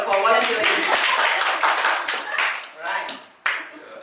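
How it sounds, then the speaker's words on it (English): A group claps for a volunteer at a workshop session, a burst of brisk hand clapping that thins and fades over a few seconds, with a final sharp clap and a voice starting at the end. "Give him a clap first for volunteering."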